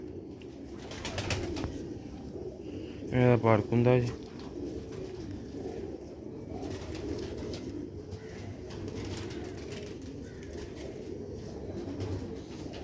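A rooftop pigeon gives a short burst of throaty cooing, two or three close, loud pulses, amid muffled background noise and someone talking before and after.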